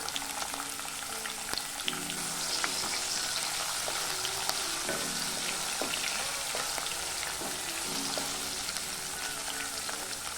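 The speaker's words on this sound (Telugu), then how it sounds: "ఇందులోకి పచ్చిశనగపప్పు నానబెట్టి ఉంచుకునేది వేసుకుంటున్నాను." Soaked chana dal goes into a hot tempering of mustard seeds, cumin and urad dal, with a loud, continuous frying sizzle, crackling pops and a few spoon clinks and stirs throughout.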